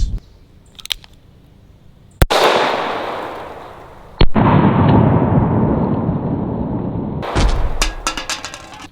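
A shotgun fires CCI shotshells loaded with number 9 shot outdoors, giving two sharp, loud blasts a couple of seconds apart, each followed by a long decaying boom, then several quieter clicks and knocks.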